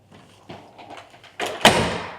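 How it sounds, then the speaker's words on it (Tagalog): A hotel room door swings shut on its own, ending in a single loud thud of the door meeting its frame after a few faint rustles and knocks. "Nagtuloy-tuloy sumara yung pinto."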